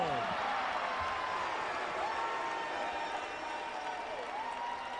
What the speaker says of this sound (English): And the crowd right back into it here in Windsor.